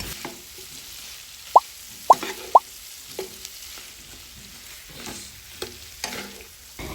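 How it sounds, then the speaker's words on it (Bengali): Fried chicken feet and wings are stirred in a spicy sauce over low heat, with three loud knocks of the spoon against the pot, then softer scrapes and wet plops over a quiet sizzle. "চুলার আঁচটা লোতে রেখে বেশ কিছুক্ষণ সময় নিয়ে ভালোভাবে গোশটা আমি মিশিয়ে নিচ্ছি"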